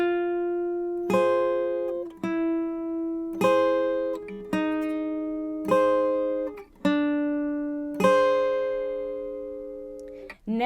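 Acoustic guitar picking the intro to a song, a series of clear plucked notes and sliding chord shapes in a slow, even rhythm, played close and alone.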